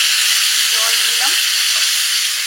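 Water poured into a hot pan of oil and whole spices: a loud, steady hissing sizzle throughout, with a faint voice murmuring briefly underneath.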